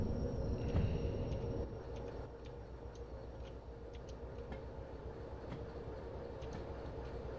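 In the video game Derail Valley, a freight train hauling autoracks rolls along the track with a steady rumble and rhythmic clicks and clacks from the wheels, louder at the start and then continuing evenly.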